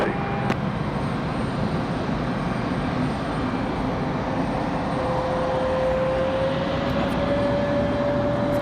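An Air France heavy jet takes off from runway 23 right at Raleigh-Durham International, a steady broad engine roar that holds throughout, joined midway by a rising whine.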